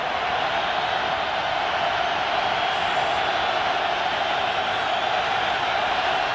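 A stadium crowd roars during a 2006 Thanksgiving NFL game between the Broncos and Chiefs. The broad, continuous wall of noise holds at an even loudness throughout, with no distinct voices standing out.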